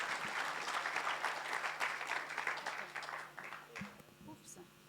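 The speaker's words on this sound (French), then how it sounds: "On peut encore applaudir, parce que c'est des marches longues." Continuous crowd applause at a closing ceremony, thick clapping that gradually thins toward the end, with a voice briefly audible underneath.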